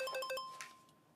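A mobile phone rings inside an office: a short burst of bright, repeating electronic ring tones, fairly faint, then a brief rustle as the ringing cuts off.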